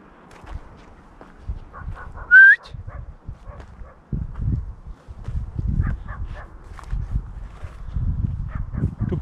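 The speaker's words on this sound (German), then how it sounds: "Du pfeifst zu leise!" A brief, rising whistle sounds once amid quiet outdoor rustling and footsteps on a trail near Xanthos, Turkey, with a dog's faint whimpers and movement nearby.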